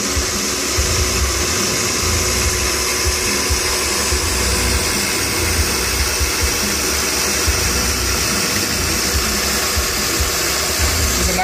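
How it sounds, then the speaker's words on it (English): A milling machine plunge-machining knife pocket clips makes a loud, continuous high whine and hum with a gritty cutting texture, steady and close throughout without speech. "some plunge machining"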